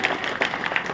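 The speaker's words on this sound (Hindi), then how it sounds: "इस उपलब्धता के लिए एक बार जोरदार ताली से विधायक जी का धन्यवाद" A crowd at an outdoor development rally in the Manasa assembly constituency bursts into loud applause to thank the MLA, with rapid clapping surging in quick waves over about a second.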